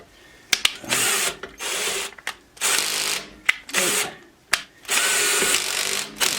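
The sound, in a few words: power drill driving screws at low torque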